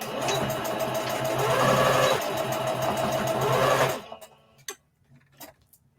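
A sewing machine runs fast and steady for about four seconds, reinforcing stitches on a fabric Easter bunny treat bag, then stops, leaving a few faint clicks and handling sounds.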